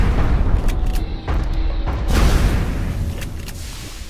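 A Rapid Fire weapon action in XCOM, heard as loud booming shots over dense, rumbling battle noise, with one burst early and another stronger one midway, all close and without voices.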